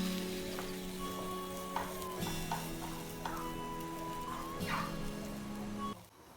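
Layers of liver cake batter frying in a pan, a steady sizzle running throughout with faint kitchen clinks, dropping off abruptly near the end.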